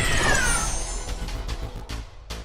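A cat meows as a sound effect in a Tamil audio story, a drawn-out cry that fades into a few short repeated calls, close and clear over a low background bed.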